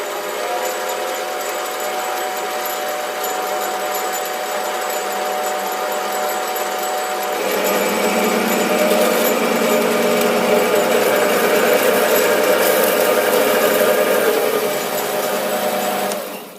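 A SIEG 7x14 mini lathe cutting metal, a steady loud motor whine with a rougher, louder cutting tone joining partway through as heavy chips come off, with no talk.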